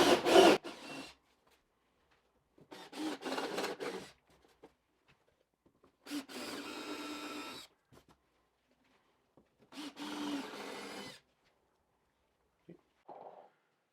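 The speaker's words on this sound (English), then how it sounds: "Countersink all those intersections." Four short bursts of a drill countersinking screw holes into wood strips, each about a second long, separated by quiet gaps, with a faint tap at the end.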